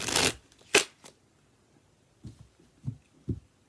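Tarot cards being shuffled by hand during a reading: a few short papery riffle bursts near the start, then quieter soft taps and card flicks, close and fairly faint with no talking.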